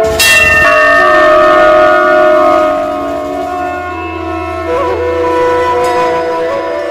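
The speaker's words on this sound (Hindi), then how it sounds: "राम मंदिर के लिए सबसे बड़ा घंटा हुआ तैयार।" A giant 2,100 kg bell made for the Ram temple is struck once, loud and close, then rings on with a long, shimmering, slowly fading hum of layered tones that lasts several seconds.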